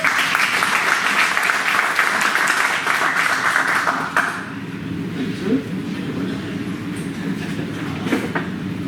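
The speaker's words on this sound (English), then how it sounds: "let's give Goodwin a round of applause." A meetup audience at a real estate talk gives a dense round of applause that fades after about four seconds, followed by quieter room murmur.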